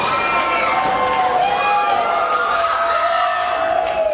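Wrestling crowd cheering loudly after a dive under the second rope to the outside, a dense sustained roar with shrill shouts and whoops rising and falling close by.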